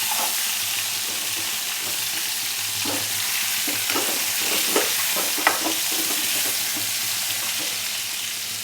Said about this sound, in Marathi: वांगे छान फ्राय करून घ्यायचे.